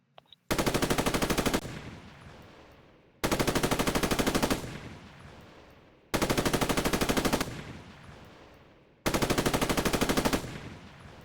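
A machine gun in a Roblox military simulation game firing at a sustained rate, giving four evenly spaced loud bursts of about a second each, separated by short pauses.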